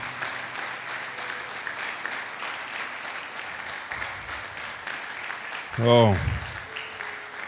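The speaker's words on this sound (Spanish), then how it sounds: "Te animo a darle un aplauso al Señor." A church congregation applauds for the Lord, a steady wash of clapping running through the whole stretch, with a brief voice rising near the end.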